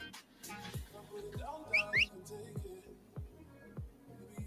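Short rising whistle chirps from the Classic version of a video game sound in a quick pair near the middle, set over steady rhythmic ticking and soft game sounds, with faint background talk.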